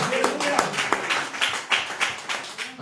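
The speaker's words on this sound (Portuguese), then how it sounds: "E mais palmas que exaltam o Rei Jesus." Church congregation clapping in praise during a worship service, with sharp rhythmic claps landing in a regular beat, fairly close and loud, while a voice and some background sound carry beneath.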